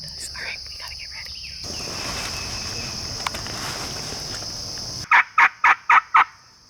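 Osceola wild turkeys gobble at dawn in Florida woods, a fast run of five loud gobbles close by near the end, after a steady chorus of insects and other birds.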